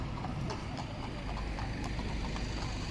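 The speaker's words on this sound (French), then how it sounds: "C'est des policiers londoniens sur des chevaux qui sont lumineux." Hooves of London police horses clip-clopping on a busy street, a faint steady rhythm of hoof strikes buried under loud traffic and engine rumble.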